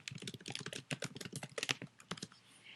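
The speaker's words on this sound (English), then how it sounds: "You can type whatever you'd like." Fingers type quickly on a computer keyboard, a close, dense run of light key clicks with brief pauses between bursts.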